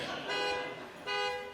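A truck gives two steady electronic beeps, each lasting about half a second with a short gap between, heard at a moderate distance over low background rumble.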